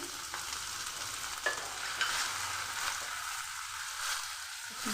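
Chopped pineapple dropped into a pan of ghee and fried onions, sizzling loudly and steadily with stirring scrapes, close and alone.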